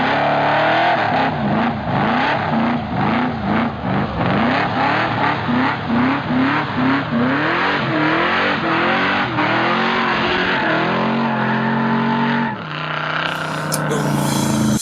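A racing car engine revs hard in a steady run of rising and falling pulls, loud and close, before cutting off near the end with a brief sharp noise.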